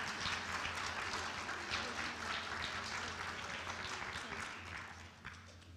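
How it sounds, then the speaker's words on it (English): Audience at the 2018 USD Scripps Spelling Bee applauds, a dense, steady wash of many hands clapping that holds strong throughout and thins slightly near the end. "You can clap."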